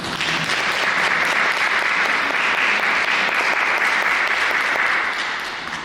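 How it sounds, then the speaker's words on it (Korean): A church congregation claps in encouragement during a Sunday service, loud sustained applause lasting several seconds before tapering off. "새로 수고하실 청년회와 남신도회 회장단을 다 같이 격려의 박수."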